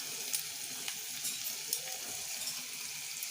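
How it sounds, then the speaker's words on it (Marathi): Two dried chillies, cumin and curry leaves sizzle in hot oil for a Marathi bottle gourd dish, a steady close crackle and hiss with small popping spikes and faint stirring, no voices. "जिरं घालायचे आणि कढीपत्ता सगळं भाजून घ्यायचं"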